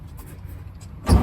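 A 1928 Ford Model A pickup engine turns over and catches, a brief loud burst rising at the end after a low, rumbling mechanical lead-in, heard close up.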